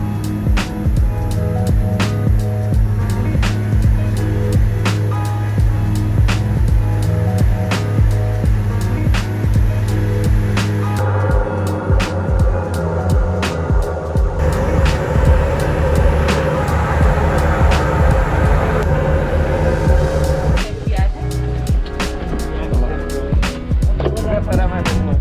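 Inside the cabin of a small passenger airplane descending toward Cascais near Lisbon, a loud steady engine drone runs throughout, with a voice talking over it.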